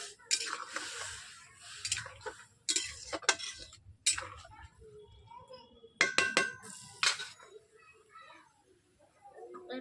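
Metal plates and utensils clink and tap sharply in several short bursts while mustard-water fish-oil spinach latpoti cooks in a pan, with quiet gaps and faint voices between the knocks.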